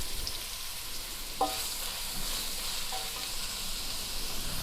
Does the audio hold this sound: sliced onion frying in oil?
yes